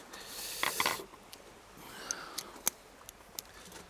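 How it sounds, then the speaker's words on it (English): A ratchet wrench tightens a bolt while a CYC X1 Pro Gen 3 X6 mid-drive controller is fitted, giving a burst of quick close clicking followed by a few sparse, faint ticks. "Let me get the wrench thing."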